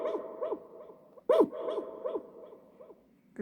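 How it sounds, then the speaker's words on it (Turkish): A dog bark sound effect played through a JBL PartyBox Encore speaker: several short barks and yips repeat across the clip, with one louder, sharper bark in the middle. It sounds fairly close, and no one speaks. "Köpek sesi diyor."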